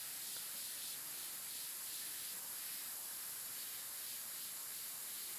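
Airbrush spraying paint while an eye is painted, a faint, continuous soft hiss with no pauses.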